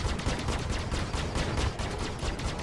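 Spaceship cannons firing in a Star Citizen dogfight between a Sabre and an Avenger, a dense, continuous rapid barrage of loud gunfire bursts with no pauses across the whole stretch.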